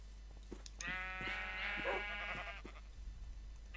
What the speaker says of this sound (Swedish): Se här är lammen i rad.